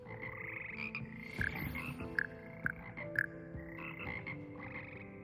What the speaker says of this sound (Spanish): Estas ranas mágicas pueden cantar armonías de 6 partes y sostener un tono mejor que lo haría cualquier humano.